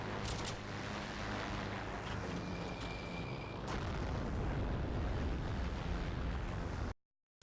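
Aircraft bombs explode in Heroes and Generals, with a sustained heavy roaring boom and rumble throughout, a few sharp bursts on top, and an abrupt cutoff near the end.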